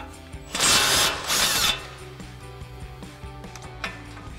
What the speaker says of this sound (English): grab our 19mm socket on our impact and go ahead and run that off